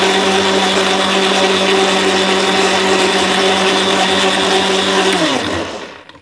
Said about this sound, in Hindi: तो अब चला लेते हैं ग्राइंडर